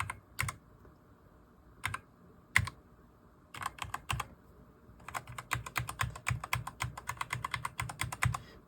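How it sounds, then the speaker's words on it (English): Keys clack crisply on a Redragon RGB mechanical keyboard, a few isolated presses at first, then a rapid, steady run of typing close up in a quiet room. "they wanted to hear how quiet it is. So here is your keyboard test."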